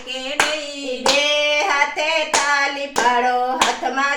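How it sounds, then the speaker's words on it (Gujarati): Several sharp hand claps at a steady beat, heard over sustained singing of a Gujarati devotional bhajan. "બે હાથે તાળી પાડો"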